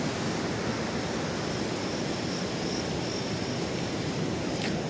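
Water rushes from the 52 gates of the Shah Nahar barrage at Talwara into the Beas river as a steady, broadband roar that holds unchanged throughout.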